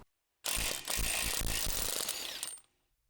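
An axle nut comes off a CV axle hub in one loud, close burst of rapid mechanical rattling lasting about two seconds, then stops abruptly, with no talk.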